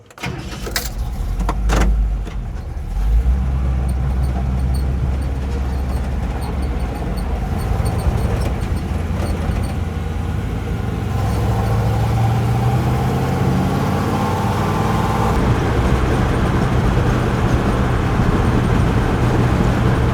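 A car engine holds a steady lean cruise, a loud, continuous close-up drone with a smooth low rumble and a slight rise in pitch partway through, with no talk.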